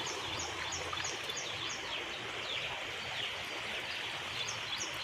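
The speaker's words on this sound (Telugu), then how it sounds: "చూడండి వాటర్ ఏ విధంగా వస్తుందో అవతల వేరే వాళ్ళ ల్యాండ్లో నుంచి" Water flowing in from neighboring farmland makes a steady, gentle rush at a distance, with a few birds chirping faintly above it.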